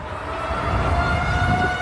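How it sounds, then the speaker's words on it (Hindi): A tornado warning siren wails over a stormy area in the United States, a steady sustained tone with a rumbling low background that runs continuously and loudly without pause. "थोड़ी ही देर बाद अमेरिका के इस इलाके में तूफानी बवंडर का सायरन बजने लगता है"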